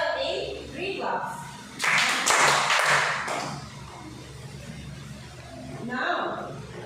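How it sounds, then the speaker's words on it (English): Children in a classroom clap together in a short burst of sharp, close claps, with spoken voices before and after. "Now please give Clifford and Pretzel a 3 claps."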